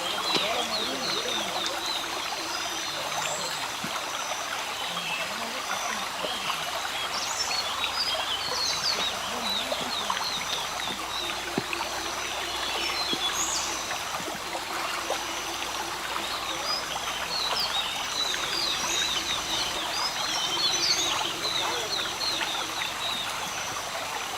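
A forest stream near Ooty, in the Pandalur area, flows with a constant rushing babble close by, while birds call intermittently over the steady water for about twenty-four seconds.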